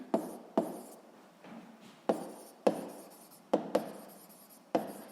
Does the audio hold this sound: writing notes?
yes